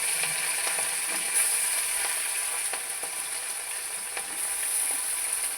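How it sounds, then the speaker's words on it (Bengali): Small mourala fish coated in rice flour frying in hot oil: an even, steady sizzle with faint occasional ticks, close and fairly quiet, no talking. "আগে মাছটা ভেজে নিই"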